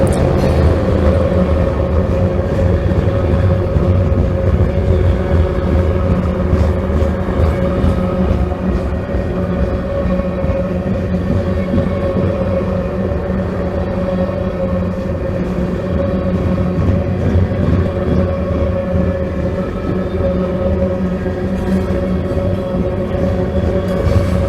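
A passing train's wheels roll steadily over the rails near Waycross, a continuous low rumble with a faint metallic hum that stays constant throughout without a break.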